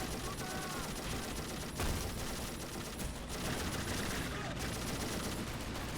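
Gunfire rattles through a trench in the Men of War Assault Squad game: steady distant rifle and machine-gun fire with occasional louder reports, fairly faint and continuous, under a voice talking.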